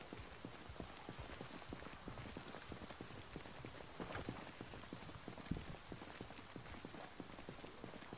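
Steady rain from the video game Project Zomboid patters evenly across surfaces, a dense, continuous hiss of drops with no voices over it.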